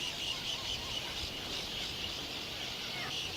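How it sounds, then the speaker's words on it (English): A seabird colony in Alaska, a dense, steady wash of shrill overlapping calls and chirps with a faint rustle of wingbeats, continuous and fairly distant, with no voices. "beats of their wings and their calls is kind of a deafening sound"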